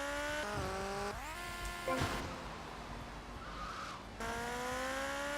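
Motorbike engine barely running in GTA Vice City, revving in rising and falling whines with brief drops and sputters, joined by tyre squeals and clattering knocks.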